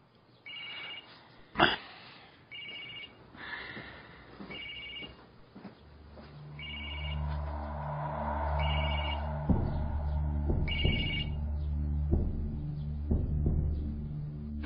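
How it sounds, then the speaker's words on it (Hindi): A telephone rings in repeated evenly spaced bursts in an indoor drama scene, the rings continuing over a low background hum and occasional knocks. "कंपनी से फोन आ रहा है"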